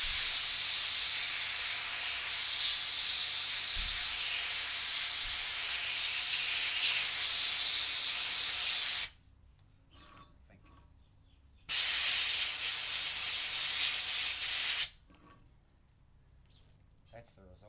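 Blasting at 100 psi on a rusty, painted hinge held in a small vise gives a loud hissing rush of air and grit, one long burst of about nine seconds, a pause, then a shorter burst of about three seconds.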